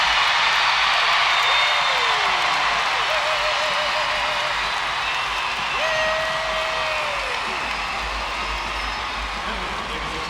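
A capacity arena crowd at an LSU gymnastics meet against Utah roars steadily after a vault. The cheering is loud and sustained throughout, with a commentator talking over it.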